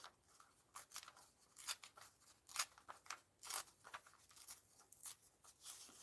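Fabric and stitching on a mixed media art journal page are torn and snipped by hand to free a zipper, giving a quiet, close series of irregular crisp rips and crunches with short pauses between them.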